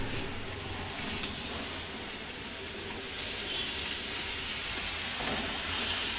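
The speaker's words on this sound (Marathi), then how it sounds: "तो मी आता त्याच्यामध्ये तव्यामध्ये ॲड करते, म्हणजे आपल्याला हे फ्राय करायला होईल" Sliced capsicum and eggplant go onto a hot tava for a quick mixed vegetable bhaji, and the steady sizzle swells louder and brighter partway through, then holds, with no talking.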